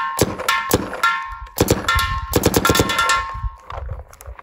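A Planet Eclipse GEO4 paintball marker fires a series of sharp, ringing metallic shots, single and in quick bursts, loud and close with a brief resonant tone after each.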